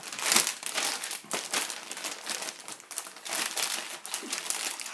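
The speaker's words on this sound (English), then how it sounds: "a nice big Ziploc bag" Close, continuous crinkling of a large plastic Ziploc bag being handled, with crisp rustles and crackles in irregular bursts and no talking.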